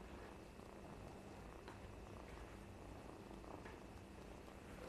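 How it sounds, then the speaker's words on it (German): A small kitten, found after climbing out of a car engine, purrs close by in a soft, steady, continuous rumble with no voices. "Das war auch ganz schön am Schnurren"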